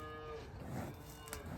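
A mean, untagged cow lowing on pasture among calves, one fairly faint, drawn-out moo heard at a distance over quiet outdoor background, no talk.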